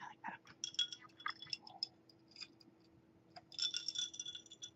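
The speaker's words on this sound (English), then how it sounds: "Crunchy ice cubes." Ice cubes clink and crunch against a glass in a quiet room, with light scattered taps in two bursts separated by a short lull.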